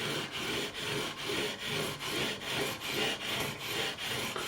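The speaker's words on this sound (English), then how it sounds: "I'm going across with 400 grit, following the radius" Steady back-and-forth rasp of 400 grit sandpaper leveling guitar frets along the fingerboard radius on a Japanese Strat neck, close and even with a regular stroke rhythm, no talk.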